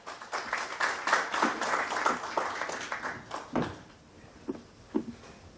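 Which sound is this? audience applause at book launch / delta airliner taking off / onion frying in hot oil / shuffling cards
audience applause at book launch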